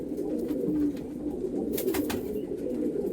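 Domestic pigeons, including a young bird, coo softly and repeatedly close by in a loft, with a brief rustle of wings in the middle.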